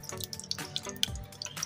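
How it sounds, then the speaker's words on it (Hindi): Cooking oil is poured into a hot kadai for Hyderabadi dum ka kheema, a brief, quiet, close splashing trickle with small drips. "अब इसमें डालेंगे हम ऑयल।"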